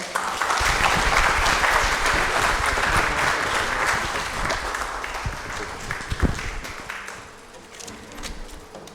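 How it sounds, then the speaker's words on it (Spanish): An audience greets a psychologist speaker at a talk with a strong round of clapping, full and steady at first, then thinning into scattered claps with a few louder knocks before dying down. "Brindémosle un fuerte aplauso, por favor"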